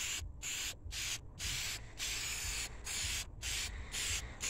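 Black rims from a turbo 1993 CB7 Honda Accord get a first coat from an aerosol spray can, heard as a series of close hissing bursts about half a second long, separated by short pauses, with no talk.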